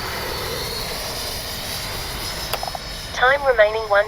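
FMS Avanti S 70mm electric ducted-fan RC jet in flight, a continuous rushing whine at steady loudness, joined near the end by a voice speaking over it.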